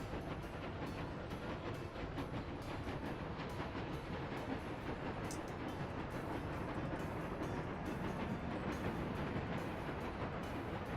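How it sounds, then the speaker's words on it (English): A diesel locomotive runs in the Workers & Resources video game, giving a continuous rumbling rail roll with steady clickety-clack rhythm throughout, moderately quiet and alone. "All right, we got ourselves a really fast train here."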